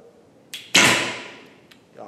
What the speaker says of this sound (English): it's so nice when you hear the arrows crunching against each other